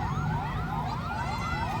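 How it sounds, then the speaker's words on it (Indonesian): Fire truck siren arriving at a building fire in Padang, West Sumatra, a loud wailing sweep that rises and falls repeatedly, close and clear over a low background rumble. "3 damkar datang lagi dan total ada 4 damkar yang sudah masuk ke dalam."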